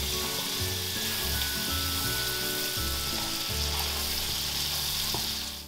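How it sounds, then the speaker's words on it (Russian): Butter sizzles loudly in a pan of melted sugar, a dense and steady frying crackle heard close and alone. "Как только кристаллы растопились, добавляем 100 грамм сливочного масла"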